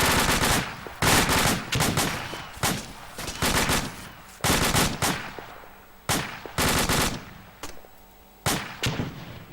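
Loud bursts of automatic gunfire from weapons in a tactical squad-based video game, firing in repeated sharp volleys with brief gaps between them and no voices.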